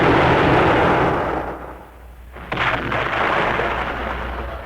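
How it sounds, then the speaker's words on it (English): A ship's gun fires a live round in a radio drama: a single heavy boom hits about two and a half seconds in, after a brief lull, and rumbles on beneath a dense, roaring background wash. "I'm settling for a 21-gun salute."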